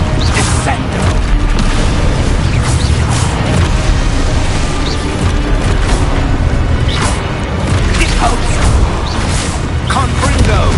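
Descendo spell in the Hogwarts Legacy video game, heard as a dense, loud barrage of magical booms, crashes and whooshes running continuously for the whole stretch with no pause.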